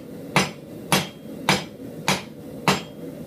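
A hammer strikes metal in five evenly spaced drawing blows about half a second apart, each a sharp, close, ringing hit, while an animal head's muzzle is shaped, with no talk.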